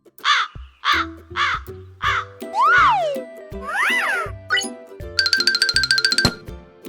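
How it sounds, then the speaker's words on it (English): Crow calling, several loud close caws in a rapid series followed by a few other distinct tonal cries and a ringing bell-like chime, no voices. "Crow."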